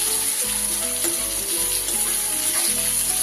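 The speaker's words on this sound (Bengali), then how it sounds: "পেঁয়াজটা সুন্দর করে ভেজে নেব।" Finely chopped onion frying in hot oil in a pan for a masala bhola fish curry, giving a loud continuous sizzle and crackle with no pauses, close by and alone.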